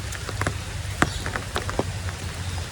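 Steady rain falling on a surface nearby, with scattered drips and patters over a low continuous hum.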